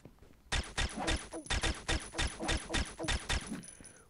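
Rapid gunfire while shooting an armed man in the mobile shooter game Pixel Gun 3D, a steady run of loud bursts fired in quick rhythm for about three seconds, with no talking over it.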